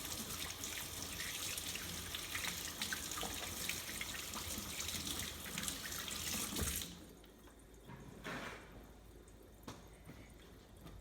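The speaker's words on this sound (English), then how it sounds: "I'm going to wash my hands real quick" A faucet runs steadily with hands rubbing under the stream, then the water shuts off and only soft drips and small clatters remain.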